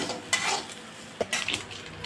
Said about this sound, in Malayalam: തേങ്ങ വറുക്കുമ്പോൾ നമ്മൾ മീഡിയം ഫ്ലെയിമിലിട്ട് തന്നെ വറക്കണം